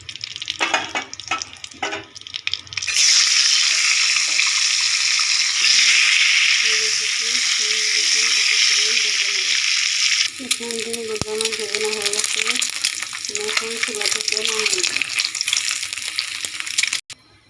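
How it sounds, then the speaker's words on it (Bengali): Eggs coated with turmeric fry in hot oil in a wok, a loud, steady sizzling hiss that starts after a few seconds of clatter and continues throughout, with a voice talking over the later part. "ডিম সাইডটাকে ভালো করে ভেজে নেব"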